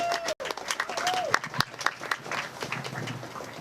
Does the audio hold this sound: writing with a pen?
no